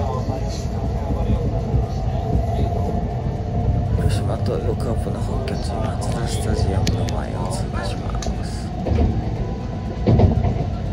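Shinkansen bullet train in Japan: a steady, low, loud rumble of the train running, with occasional clicks and clatters. People talk softly over the constant noise.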